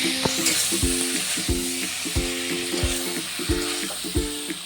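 Ground spice paste with turmeric and salt fries in a hot pan, a steady close sizzle broken by regular scraping spatula strokes about twice a second, with no talking.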